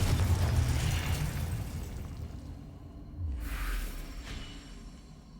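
Confringo fire-spell explosions in the video game Hogwarts Legacy, with a heavy low boom burst at the start fading into rumble, then a second whooshing blast around the middle, loud and alone.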